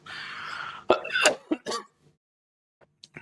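A single man with a lingering cough coughs and clears his throat in a few harsh, close bursts during a general knowledge lesson, then falls mostly quiet.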